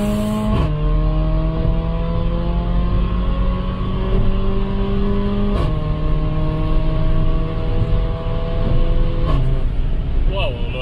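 A Mercedes-AMG GLA 45 accelerates hard from third gear, its engine roaring loud and close with rising revs, broken by quick upshifts about every five seconds, while someone talks over it.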